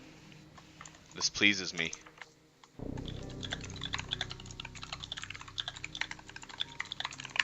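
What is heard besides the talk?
typing on a mechanical keyboard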